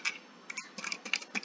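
Keys clatter on a computer keyboard while entries are typed into a Google Form drop-down box, a quick irregular run of close, light clicks in short bursts with brief pauses.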